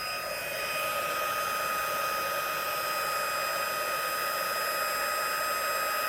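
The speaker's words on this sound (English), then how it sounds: "give it a little bit of heat with either a hairdryer or an embossing gun" A hairdryer or embossing gun blows steady, even hot air while warming crackle-effect resin, a constant close whooshing hiss with no break and no talk.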